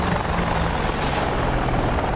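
An attack helicopter flies in the DCS combat flight simulator, a loud, steady rotor thrum and low engine drone filling the clip without pause, close and unbroken, with no talk.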